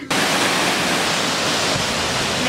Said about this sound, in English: you can walk along the side of the waterfall